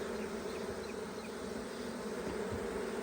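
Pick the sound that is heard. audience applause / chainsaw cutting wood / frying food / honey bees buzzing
honey bees buzzing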